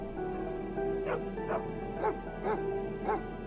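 A jackal calls from a distance in a quiet night setting, five short yelping, wavering cries spaced about half a second apart against a low steady background hum.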